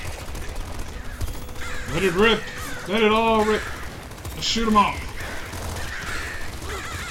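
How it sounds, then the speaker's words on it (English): Crows attacking in the video game Nuclear Throne let out harsh, rasping caws in several bursts amid game gunfire, while someone talks over them. "I gotta be careful not to get surrounded by the fucking crows"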